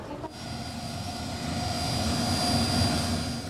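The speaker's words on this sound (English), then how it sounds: "As the plane prepares for takeoff" Airliner jet engines running as the plane prepares for takeoff, a steady broadband roar with a high whine that slowly swells in loudness, heard alone without voices.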